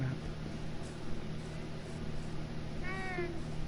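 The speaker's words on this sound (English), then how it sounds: "Meow. Meow." A cat meows in the Minecraft video game, with a short rising-falling meow near the end over a low steady background hum.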